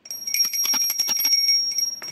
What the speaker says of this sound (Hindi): तो यहाँ पर कर लेंगे अब आरती घंटी बजाकर।